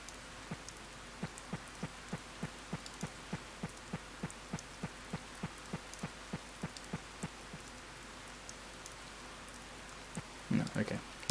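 Steady rainfall patters in a fishing video game, a soft continuous hiss under a run of regular faint ticking beats, closing with a brief louder burst near the end.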